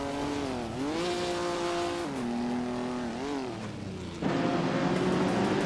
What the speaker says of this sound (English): Whip 3 Out 25 is driving a 1966 Lotus Cortina, a classic British race car known for its agility.